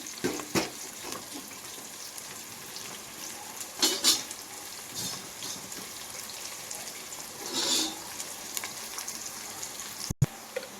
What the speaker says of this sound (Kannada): ಫಸ್ಟು ಉಳ್ಳಾಗಡ್ಡೆ ಬೇಸ್ ಫ್ರೈ ಆದಮೇಲೆ ಕರಿಬೇವು ಹಾಕ್ಯಂತಾರೆ